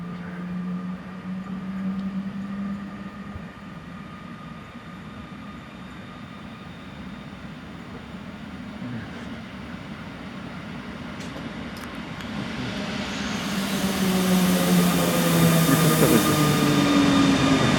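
PKP Intercity EU160 Griffin electric locomotive with its train at Łowicz Główny station: a steady rolling rumble with faint whines builds into a louder roar and high rail screech as it passes close by, with no talking.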